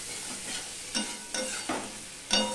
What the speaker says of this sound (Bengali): দেখো মশলাটা কষানো হয়ে গেছে, টমেটোরও কাঁচা গন্ধ চলে গেছে,